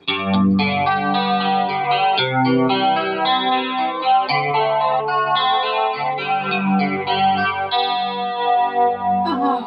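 Ibanez RG-370DX electric guitar with a thick, distorted tone on the upper pickup position, chords and single notes ringing continuously at steady loudness, with a short pick attack at the end.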